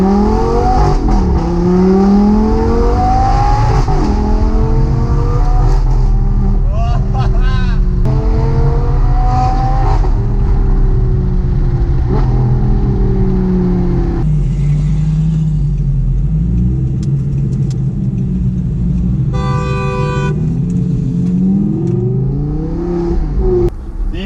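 Audi R8 V10 fitted with a full Capristo exhaust, revving hard with rising and falling engine tones, loud and close, repeated blips throughout with brief talk mixed in.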